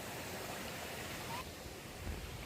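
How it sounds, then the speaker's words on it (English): A small, flat river flows at the top of the Pistyll waterfall in Wales, giving a steady, even rush of water that stays close and fairly loud for the whole stretch. "this is the start of the Pistil waterfall. It's just a flat, small river here"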